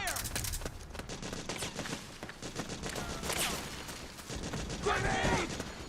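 Sustained gunfire in the video game Metal Gear Solid 4, rapid bursts of automatic shots and fusillade crackle running continuously, loud and close, with voices speaking during the fighting.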